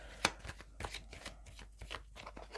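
A deck of tarot cards being shuffled and cut: a sharp riffle burst followed by a string of soft papery slaps and flicks, close and fairly quiet, with no voices.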